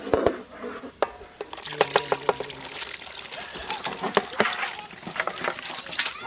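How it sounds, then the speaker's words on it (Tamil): Country chicken sautéed in butter with masala in a pan, close scraping stirs and sharp clinks over a soft sizzling hiss, no speech. "வெண்ணெயில வதக்கின நாட்டு கோழிக்கறி,"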